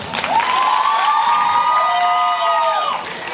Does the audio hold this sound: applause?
yes